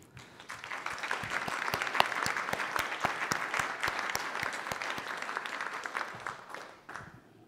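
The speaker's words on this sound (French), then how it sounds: "je vous demande de l'applaudir" An audience applauds a newly elected president of a French public body at an official meeting, steady clapping building for about seven seconds before thinning out near the end.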